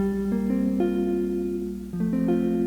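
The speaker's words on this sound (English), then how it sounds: "there's a pretty good jazz guitar" An electronic keyboard, a Yamaha FX-1 FM organ on its jazz guitar preset, plays a few sustained, plucky guitar-like notes in sequence, clean and close, with no talking.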